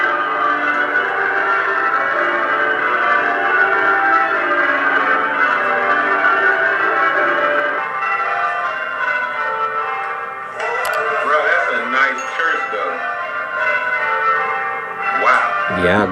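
A church bell rings out as a Christian call to worship, a dense, sustained wash of ringing tones that carries on throughout, with a voice faintly talking beneath it.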